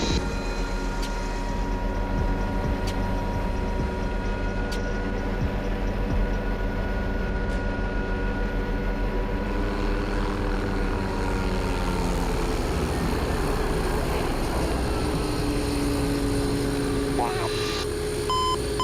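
An MD 530N NOTAR helicopter in flight gives a loud, steady turbine and rotor drone that holds throughout, with voices talking over it.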